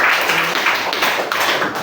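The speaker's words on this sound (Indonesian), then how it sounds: "Ya, tolong beri tepuk tangan kepada." A class applauds in a steady, dense wash of clapping that stays fairly loud and even throughout the short stretch, with no clear voices on top.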